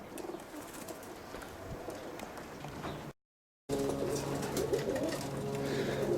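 Roller pigeons coo softly in a loft, their low, throaty calls repeating under faint rustling and background noise, with a brief dropout partway through.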